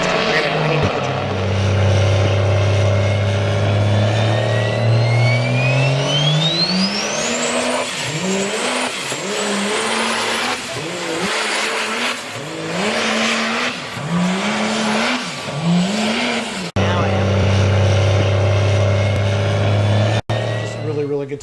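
Monster truck engines rev hard at a monster truck show in Worland, Wyoming, with repeated rising and falling engine sweeps, tire noise and a loud steady idle roar, while an announcer talks over much of it.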